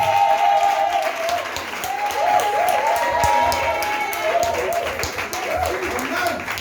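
A church congregation applauds loudly and continuously, dense clapping with voices calling out and cheering throughout.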